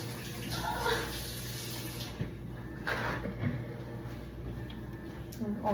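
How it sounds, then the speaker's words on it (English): Running tap water splashes steadily as a fork is rinsed in a kitchen sink, with brief clinks and a voice talking quietly under the flow. "I just rinse off my fork and I use it again"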